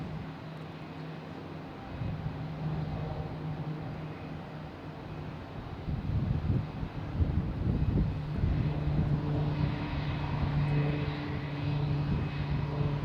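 Airbus A220 jet, flight 2474 from Fort Myers, arriving at Boston Logan, a low engine hum that grows louder and rougher partway through, with steady tonal drone and some wind buffeting.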